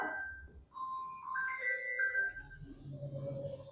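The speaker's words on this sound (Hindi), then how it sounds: "ये मेरी भी रिंगटोन ऐसी है ना टैबलेट की" A tablet plays its ringtone, a short, quiet electronic melody of bright stepped tones in a fairly still room.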